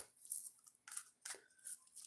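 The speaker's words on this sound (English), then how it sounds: "Shuffle this 3 times" A deck of oracle cards is shuffled in soft, papery riffling bursts, several quick passes in a row, faint and close, with no voices.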